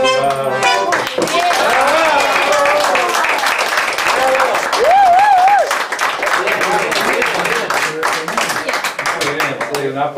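An audience at a live Argentine comedy and tango show claps under loud sung and spoken voices and music. The clapping runs through most of the stretch and is partly masked by the performers.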